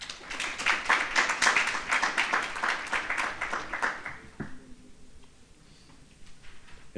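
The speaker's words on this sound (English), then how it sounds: "we can give them a round of applause" Applause from a workshop audience greeting panelists as they take their seats, a dense patter of many hands that swells early, then thins out and fades to scattered claps by the end.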